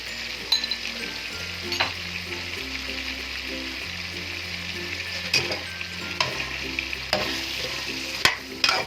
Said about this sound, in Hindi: मज़ीद अच्छे तरीके से भूनेंगे जी